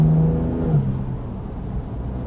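A BMW M2 with a stage 2 tune, rated 560 horsepower, accelerates hard, its deep engine roar rising in pitch, close and loud throughout.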